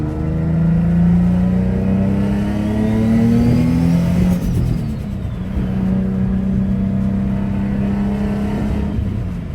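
A turbocharged Nissan 350Z, suspected of bad spark plugs, revs up loudly, its pitch climbing over several seconds before dropping back to a rough, lower drone, heard close with no voices.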